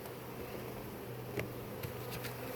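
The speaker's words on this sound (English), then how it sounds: "Close the lid so those bees don't fly back out" A swarm of honey bees buzzing as a faint, steady hum close by, with a few soft knocks from handling the hive.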